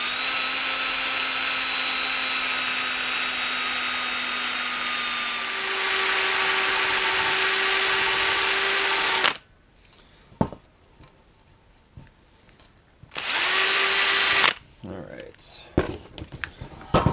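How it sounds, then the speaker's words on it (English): Cordless drill spinning a polishing head against small metal parts, a steady high-pitched whine that rises in pitch midway, cuts out into quiet handling noises, then briefly whirs again up close. "I actually switched over to using a drill, so I can work without the compressor going off."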